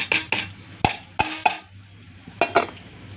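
A spoon stirring chopped onions into a fish egg omelette batter in a bowl, sharp irregular clinks and scrapes against the vessel, close and distinct with no talk.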